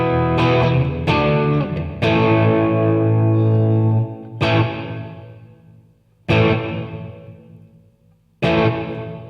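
Electric guitar through a Boss Katana 100 combo amp with a long hall reverb: several struck chords, each ringing out and fading in a long, defined tail before the next strum, loud and alone.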